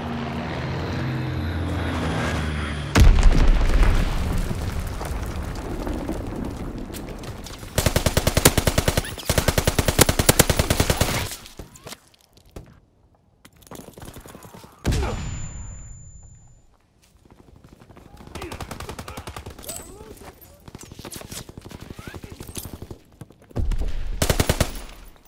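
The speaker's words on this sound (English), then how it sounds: "Enemy bomb incoming." Bombing and gunfire in Call of Duty WW2 online play: loud bursts of rapid machine-gun fire and explosions, with aircraft engines droning between volleys and brief quieter gaps, dense and close throughout.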